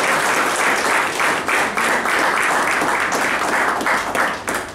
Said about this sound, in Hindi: हम उनका भी बहुत जोरदार तालियों से अभिनंदन करते हैं